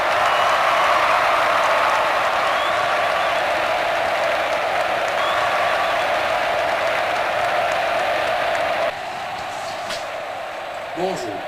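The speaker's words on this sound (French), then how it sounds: "Applaudissez-le." An audience applauds a minister of natural resources, a loud, dense, steady wash of clapping that drops off abruptly near the end, leaving quieter room sound.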